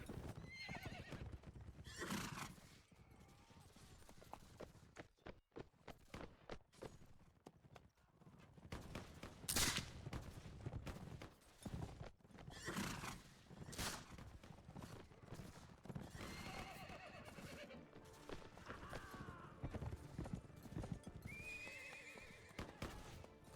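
Horses in Mount & Blade: With Fire & Sword whinny and neigh repeatedly, with clip-clopping hooves, clashing battle noise and occasional gunfire, all fairly loud and close throughout.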